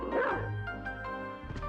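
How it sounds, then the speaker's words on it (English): Dog barking and yipping in the Castlevania: Symphony of the Night video game, a few short close yelps over a sustained synthesized game music backdrop. "Alright, get moving, doggy."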